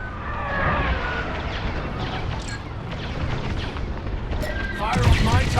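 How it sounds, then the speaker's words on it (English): A missile volley fired in the Star Wars Squadrons space combat game, heard as dense rumbling booms and crackling blasts that run without a break, loud and continuous, with a voice speaking over part of it. "Titan, the Tormentor is firing another missile volley."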